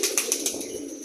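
A domestic pigeon's wings clap and flutter in a quick burst of four or five sharp beats near the start, then fade into a soft, airy rustle, with no one talking.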